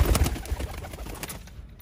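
A Chatoo breed pigeon breeder pair coos in short, low, throaty bursts close to the microphone, the calls fading toward the end of a brief stretch with no speech.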